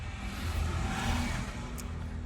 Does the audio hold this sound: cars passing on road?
yes